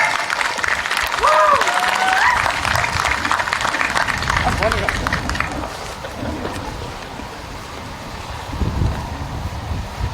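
Applause at a virtual swearing-in ceremony for a tribal chief and council, broad crackly clapping spread over the whole stretch, loud at first and thinning slightly, with voices talking underneath.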